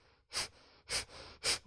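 Three forceful breaths during a kundalini yoga exercise, close and loud, each a short rushing burst of air spaced about half a second apart, with no talking.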